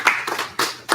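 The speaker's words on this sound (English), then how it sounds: "Round of applause for Eli" Scattered hand claps from a small group at an elementary school spelling bee, a few separate bursts over a second, close and fairly loud.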